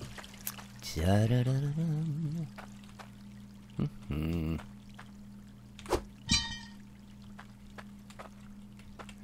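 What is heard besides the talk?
water pouring in the mining video game Hydroneer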